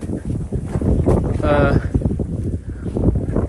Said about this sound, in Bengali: ড্রোন আসলে বোঝা যাইতেছে না, কারণ প্রচুর বাতাস।